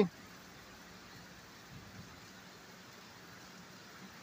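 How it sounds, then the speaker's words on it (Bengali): Heavy rain pours steadily during a thunderstorm, a dense, even hiss that holds at low level from start to finish with no voices over it. "শুরু হয়ে গেছে প্রচণ্ড বৃষ্টি,"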